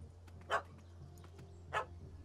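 A dog barks twice in The Witcher 3 video game, two short separated yaps at moderate distance over a quiet ambient game background.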